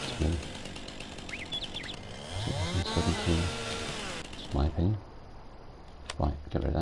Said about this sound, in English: That's how long it's been since I've chopped logs up with a chainsaw.